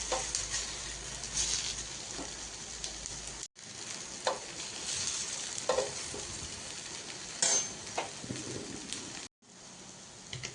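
Cabbage vadi crisping in a pan with sesame seeds, a soft continuous sizzle broken by brief pauses and occasional scraping or turning sounds, fairly quiet and close.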